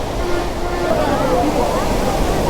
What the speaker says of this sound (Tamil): இதாங்க சில்வர் கஸ்கேட் ஃபால்ஸ்